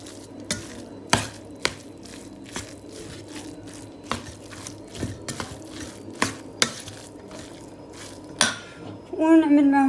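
Chicken pastilla filling being stirred in a metal pot, with sharp irregular clinks of a spoon against the pot over a soft background hiss, ending in a brief louder scrape and clatter.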